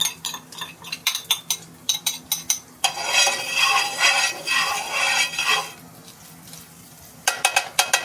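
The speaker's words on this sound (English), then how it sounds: "the first thing I'm going to do is add the sweet radish and the shrimp, the dried shrimp" Sweet radish and dried shrimp hit a hot pan for pad thai, setting off a loud, steady sizzle that swells midway, framed by sharp metallic clinks and scrapes of a utensil against the pan before and after.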